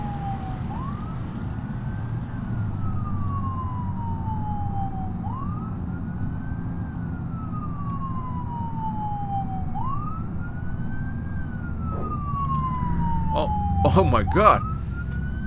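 A police car siren wails in a repeating rising-and-falling cycle during a chase in BeamNG.drive, steady and moderately loud over engine rumble, with a voice exclaiming and a few sharp crash transients near the end.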